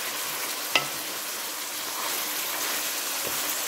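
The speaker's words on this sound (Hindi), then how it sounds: "अब इसको गोल्डन ब्राउन होने तक फ्राई करना है।" Chicken fries in hot oil in a kadai, a dense, continuous, hissing sizzle close up with one brief clink of a utensil, and no talking.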